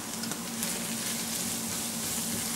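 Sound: turmeric and garam masala powder frying in oil

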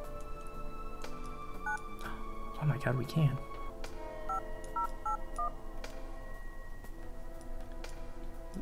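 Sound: phone keypad dialing tones in Surgeon Simulator video game

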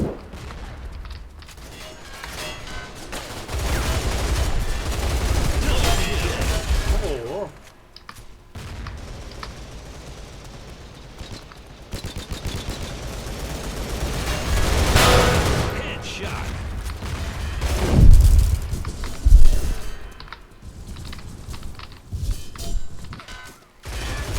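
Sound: M4A1 rifle gunfire in Line of Sight video game

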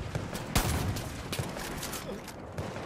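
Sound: gunfire in the video game Far Cry

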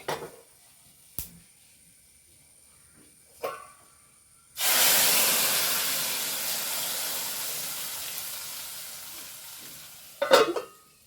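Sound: stirring kalan in pan on gas

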